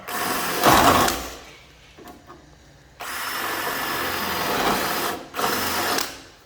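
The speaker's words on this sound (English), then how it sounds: "So I'm just going to drill here and see how we get on." A power drill whines in several bursts while drilling into an Alfa Romeo 145 Cloverleaf being restored, starting and stopping with short pauses between them, loud and close.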